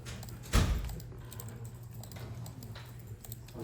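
A computer mouse clicking while selecting elements in 3D modelling software, with rapid light clicks running steadily throughout, one louder thump near the start, close by, with no talking.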